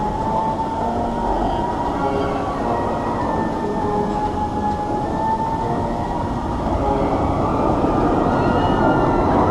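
A roller coaster train at Parc Astérix runs along its track with a broad, steady rumbling roar that stays close and loud throughout, with faint whining tones riding over it and no clear talk.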